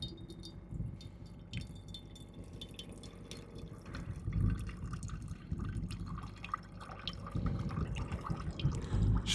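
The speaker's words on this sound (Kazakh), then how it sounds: "Су ағып бастады." Water flows from an ISSAF water filter being used to clean water from Kapchagay, a faint, continuous trickle with soft dripping and gurgling that swells slightly over time.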